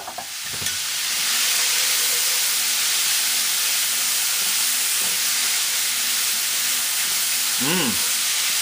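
Bacon and chunks of peeled Gala apple cooking in a skillet, a loud steady hiss of frying that swells after a brief clatter at the start, close and continuous with no speech.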